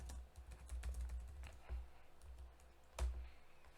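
Keys are typed on a computer keyboard while a command is entered in a MySQL console, a quiet run of soft clicks with a louder final keystroke.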